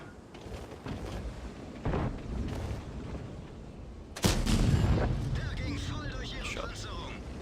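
Leopard 1 tank cannon firing in a video game: a sharp, loud blast near the middle that rings out and decays, with a smaller thump earlier and a voice talking throughout.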